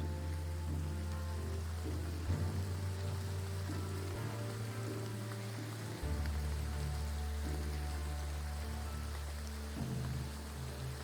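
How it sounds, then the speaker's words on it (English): Heavy rain falls in the video game Graveyard Keeper, a dense continuous patter over a low steady rumble, with shifting background layers and no talking. "raining heavily."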